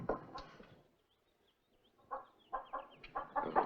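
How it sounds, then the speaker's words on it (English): An old hen clucks outdoors in a dry desert setting, giving a run of short, fairly faint clucks that grow busier toward the end after a quiet pause. "Let me see you track down that old hen over there."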